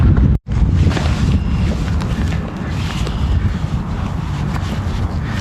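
Wind blowing outdoors on a warm, windy day in a backyard, a loud, rough broadband rush with gusty buffeting on the microphone that continues throughout.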